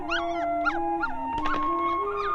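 A puppy given as a birthday gift whimpers and yips in a series of short, rising-and-falling cries, close and fairly steady, with a continuous tonal hum underneath and no talking.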